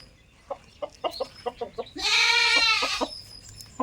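Country rooster and hens at a market: a series of short, sharp clucks followed by a loud, drawn-out rooster crow, then more clucking, all close by.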